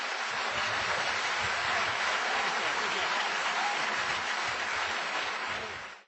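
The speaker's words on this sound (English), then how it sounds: "Let's give him a round of applause." An audience at the close of a creation versus evolution debate claps in sustained, even applause for several seconds, many hands together at a steady level before it cuts off.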